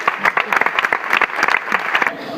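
An audience applauds at a live show, brisk steady clapping from a small crowd that holds at the same level throughout, close and fairly loud.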